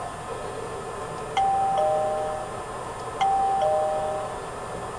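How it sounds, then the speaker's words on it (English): A video game doorbell from a Minecraft furniture mod rings twice, each press giving a clean two-tone ding-dong chime over a low steady background hum. "A real doorbell."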